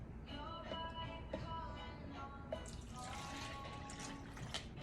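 Pickle juice made with sugar and Kool-Aid pours into a jar with a steady liquid splashing and trickling, close by, with a few drips and clinks and no talking.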